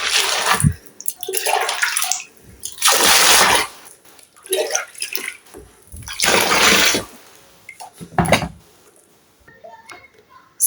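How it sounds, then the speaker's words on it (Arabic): Water is poured or splashed over a carpet to wet it before washing, arriving in several loud bursts of broadband splashing separated by quieter gaps, close to the microphone. "السجادة معايا اهيت، هبلها كلها مية قبل ما اغسلها"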